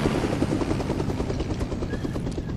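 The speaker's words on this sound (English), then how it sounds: "I'm gonna grab the helicopter." A helicopter in the Fortnite video game thrums steadily with rapid rotor chop, loud and continuous throughout, with no talk over it.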